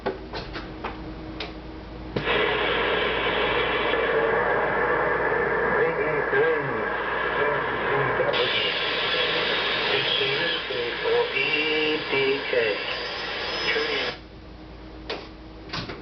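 Noisy AM reception on the 75 meter amateur band: a hissing, crackling band of static with a faint voice buried in the noise, steady throughout with brief quieter gaps.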